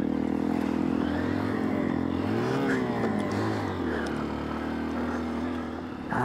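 A 2023 Honda XR150L motorcycle ridden off-road through overgrown trail; the single-cylinder engine drones steadily up close with rising and falling revs and constant wind and rumble, and there is no talking.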